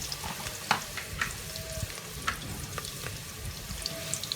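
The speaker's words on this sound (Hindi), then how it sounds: "और इसके अंदर हम करते हैं अदरक लहसुन का पेस्ट ऐड।" Ginger garlic paste sizzles softly in a frying pan, a fairly quiet, even crackle with scattered small pops and occasional light stirring clicks.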